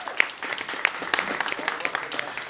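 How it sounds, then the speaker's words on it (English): A small crowd applauds at a green business event, a scattered patter of clapping that holds steady for a couple of seconds, moderately loud and close. "Little round of applause."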